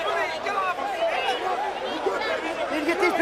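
A dense crowd of people chattering and shouting together inside a boxing ring at a boxing night, a close, continuous babble of many overlapping voices with occasional louder calls.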